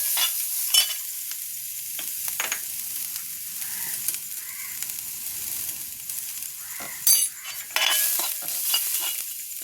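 Crushed coconut, curry leaves and salt are stirred in a pan, with scraping and light sizzling through the stretch and a couple of sharper clinks of the spatula; no one speaks.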